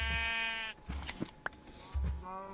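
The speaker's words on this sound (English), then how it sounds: "There's a sheep down here" Minecraft sheep bleat twice, wavering electronic baas at the start and end, with soft game thumps and clicks between them, all fairly quiet.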